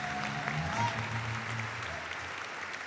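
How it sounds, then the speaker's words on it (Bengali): A studio audience at a televised Bengali comedy challenge show claps in steady, dense applause for a few seconds, moderately loud and even throughout, with a little crowd murmur mixed in. "হাততালি।"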